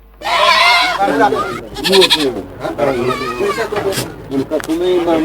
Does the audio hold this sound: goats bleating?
yes